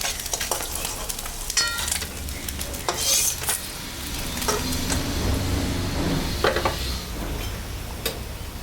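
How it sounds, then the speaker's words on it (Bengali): Fish fries in oil in a pan with a loud, close sizzle and crackle, joined by several sharp spatula scrapes and clinks against the pan; no talking. "মাছটা আমার ভাজা হয়ে গেছে আমি এখন তুলে নিই"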